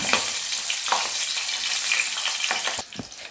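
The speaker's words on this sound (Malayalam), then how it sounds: "ഇതിലേക്ക് പച്ചമുളക് 1 മുറിച്ചിട്ട് ഇട്ട് കൊടുത്തിട്ടുണ്ട്." Sliced green chili fries in hot oil in a pan for Kerala-style chicken fry, with a steady, close sizzle and crackle.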